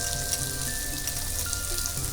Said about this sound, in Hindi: अब कटी हुई हरी मिर्च डालेंगे